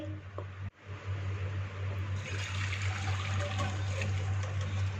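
Mutton broth (yakhni) strained through a strainer in a kitchen, a steady close liquid pouring and trickling sound with a low running hum underneath, no talking.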